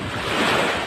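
Sea waves at low tide make a steady, broad wash of surf with some wind noise, continuous and fairly close.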